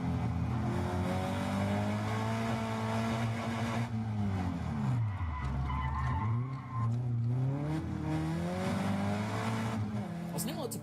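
Caterham race cars circuit the track at Donington Park, engines revving up and down in loud, close sweeps, with tyre squeal as they run wide through a corner.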